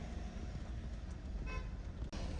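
Car horns sound in a highway traffic jam near Manali, with faint toots and honks over a steady, quiet rumble of road traffic.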